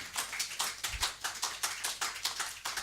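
A church congregation claps to acclaim the Lord, a steady, brisk rhythm of about four claps per second that keeps going evenly throughout at moderate volume.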